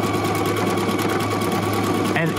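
A Husqvarna Viking Epic 95Q sewing machine runs its built-in stippling stitch on a small piece of quilted fabric, a loud, steady, fast-pulsing motor hum that stays constant throughout, close up.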